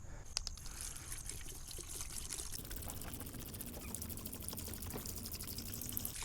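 Evaporust rust remover is poured from a container into an oil pan, a soft continuous liquid pour with gurgles and trickles, faint and close, steady throughout.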